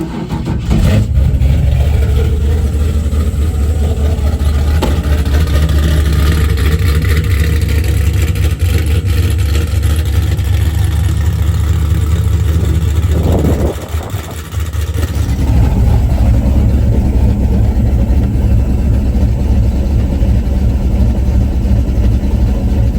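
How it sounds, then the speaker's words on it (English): A Chevrolet S10 pickup with a swapped 6.0L V8 idles after a cold start on a very cold day, a loud, steady low rumble close by with a brief dip midway, and no talking. "what I'm going to do first is data log a cold startup, and it is very cold"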